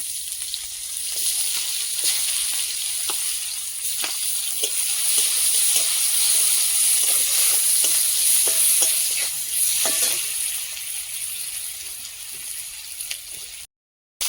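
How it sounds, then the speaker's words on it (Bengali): Chopped onions sizzle and crackle steadily in hot oil in a pan, with occasional stirring scrapes, loud and close throughout before the sound cuts off abruptly at the end. "পেঁয়াজটা ভাজা ভাজা হয়ে গেছে"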